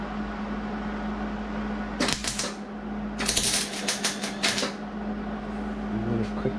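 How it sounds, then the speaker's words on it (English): A welder tack welds metal for a DIY three-point attachment with a few short bursts of sharp crackling sizzle, two quick tacks close by over a steady machine hum. "Turn the welder on."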